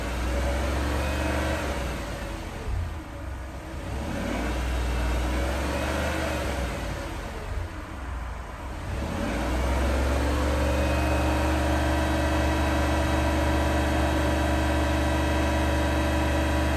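A 2006 Land Rover Range Rover engine rises from idle to around 3,000 RPM and holds a steady, loud hum close by, with two brief dips in revs before settling into a sustained drone.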